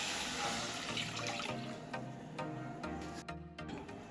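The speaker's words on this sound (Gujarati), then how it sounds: "कढ़ाईमां आपणे 2 कप पाणी नाखीशुं।" Water poured into a nonstick kadai, two cups' worth, running steadily for a few seconds with some splashing. It is a continuous watery rush heard close up, and no one speaks.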